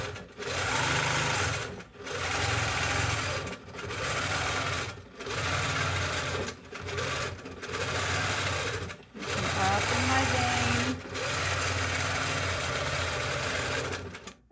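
A longarm quilting machine stitches steadily in loud, continuous bursts, pausing briefly every second or two as the needle stops at points along the pattern.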